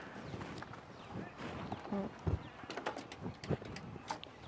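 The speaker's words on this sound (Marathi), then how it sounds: "बैल गाडी चालू कर" Bullock hooves clop unevenly over the rough, rumbling background of a moving bullock cart, with a few louder knocks mixed in and voices now and then.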